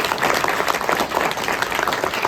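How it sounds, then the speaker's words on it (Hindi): Audience applause at a career and youth day motivational speech event in Kariri-Todabhim, a dense, steady wash of many hands clapping together at close range. "उस बच्ची के लिए आप ताली बजाएं"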